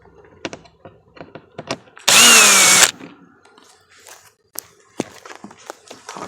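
A power drill whirs in one short burst while removing screws from an Infiniti glove box, surrounded by light clicks, handling knocks and taps.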